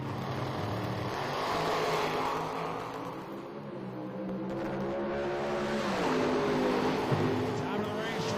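A pair of Top Dragster cars at an IHRA Pro Am drag race roar under a public-address announcer's talk, the engine drone swelling and shifting in pitch as the cars launch down the strip.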